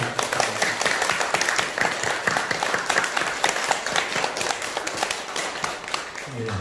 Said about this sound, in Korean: 우리 큰 박수 한번 치십시다